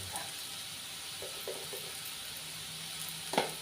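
Bitter gourd sautés in a pan for pickle, with a steady, close hiss of frying and a few soft clinks and stirring scrapes, ending with a brief louder clatter, and nobody speaking.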